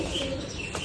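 A young white pigeon gives one soft, brief coo up close, with faint background noise behind it.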